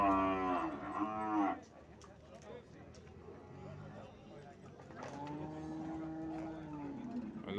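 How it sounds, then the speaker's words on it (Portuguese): Cows with calves mooing during unloading at a cattle fair in Tabira, Pernambuco, two loud close moos separated by quieter background noise and movement. "vaca com os bezerros."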